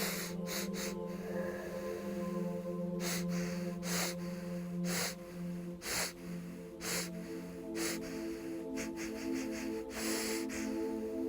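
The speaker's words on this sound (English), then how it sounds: "If you close one, the one that's actually free, then the one that's blocked, just breathe through it." Slow, deliberate breaths drawn through a single nostril during a balancing meditation, each inhale and exhale a soft close airy rush repeating at an even pace over a steady low hum.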